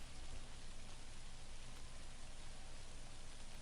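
Steady soft rain in Prison Architect, a faint, even hiss of falling drops with no distinct individual impacts, continuous throughout.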